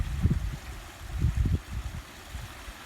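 Water flows over a small garden waterfall of rocks and slate, a close steady gurgling trickle with low splashing surges and nobody speaking.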